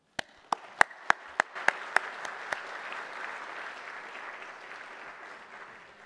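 An audience at a university distinguished lecture applauds to welcome the speaker, opening with a few sharp individual claps that quickly swell into steady, moderately loud room-filling applause before slowly tapering.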